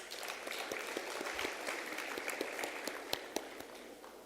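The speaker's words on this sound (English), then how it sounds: "A round of applause, please." An audience at an academic event applauding for a vote of thanks, a fairly soft, even patter of clapping with a few louder nearby claps near the end, no talk over it.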